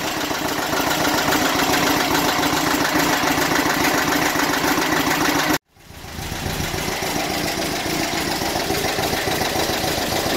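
A car engine idles after a cold start with a steady, slightly rough, throbbing rumble, broken by one brief dropout midway before resuming evenly.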